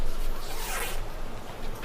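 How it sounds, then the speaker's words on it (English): A clothing zipper is pulled in one quick, close rasping stroke, a brief scratchy burst over a faint background. "I just heard a zipper."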